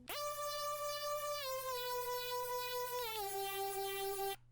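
A bright, buzzy E lead synth holds a single sustained note, then steps down in pitch twice with quick gliding slides, loud and alone, stopping abruptly.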